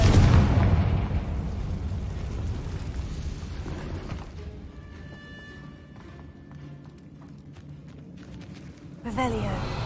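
Confringo fire spell cast in Hogwarts Legacy gameplay: a loud burst with booming rumble opens, fading into game ambience, then a sharp second blast near the end; speech tagged in the mix.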